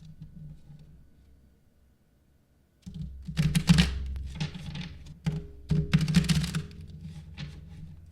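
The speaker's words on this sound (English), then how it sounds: "I'm going to first mix up the cards." Tarot cards being mixed by hand, heard as a stretch of soft rustling and tapping thuds in irregular bursts after a brief quiet spell, close by with no talking.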